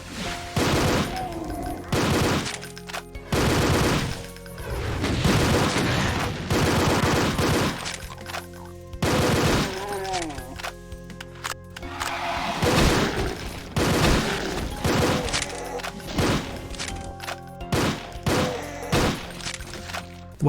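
Rapid bursts of weapon fire from a Doom WAD video game, dense repeated shots and blasts over in-game music, loud and continuous across the whole stretch with brief gaps between volleys.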